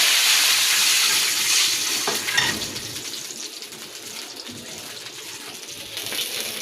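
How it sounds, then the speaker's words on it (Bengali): Water goes into a curry of bitter gourd in a hot pan, giving a loud hissing sizzle at first that slowly settles into a softer, steady bubbling simmer. "এখন আমি পানি দিয়ে দেবো।"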